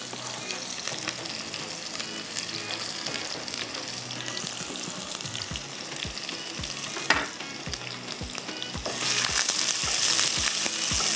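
Chicken mince with onion and garlic fries in a pan, a steady close sizzle with rhythmic stirring taps, a sharp clatter midway and a louder hiss near the end.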